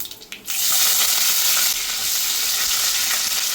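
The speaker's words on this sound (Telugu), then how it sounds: "ఆవాలు వేసుకుంటున్నాను, జీలకర్ర వేసుకున్నాను, 2 ఎండుమిర్చి గిల్లు వేసుకుంటున్నాను." Mustard seeds, cumin and two dried red chilies hit hot oil for a tempering, bursting into a loud, steady close-up sizzle after a brief quieter start, with no talking.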